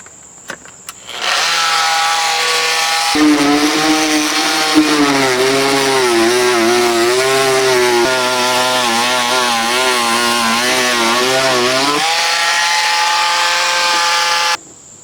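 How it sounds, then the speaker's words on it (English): A Dremel Velocity oscillating tool cutting rotten fascia wood on a roof edge, a loud, steady buzzing whine that shifts pitch as the blade bites, running continuously for about eleven seconds. "This is a Dremel Velocity. Man, wonderful tool. Cutting wood, cutting metal, kinds of stuff."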